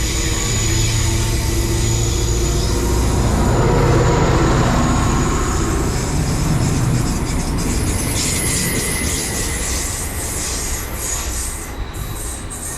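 Class 755 unit 755-417 departing West Runton station on the Bittern Line, a loud close rumble of wheels and motors with squealing rail noise, gradually easing as it pulls away.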